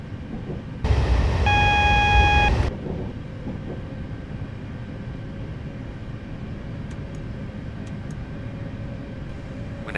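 Class 444 electric train from Train Simulator 2015 rumbling steadily along the line near Guildford, with a loud burst of horn-like tone early on, then a continuous cab drone with faint clicks.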